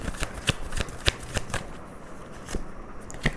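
A tarot card deck is shuffled by hand in a quiet room, with a series of crisp, irregular riffling snaps and flutters at close range, some louder than others.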